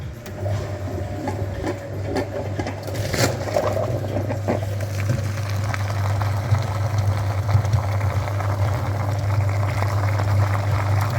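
Flushing machine pumping through the heater radiator of a first-generation Renault Scenic, a steady low motor hum with watery churning that runs unbroken and fairly loud throughout.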